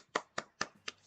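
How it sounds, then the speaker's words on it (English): Four quick hand claps ring out in an even rhythm, fairly soft and close, with nothing else around them. "Good job. I applaud you."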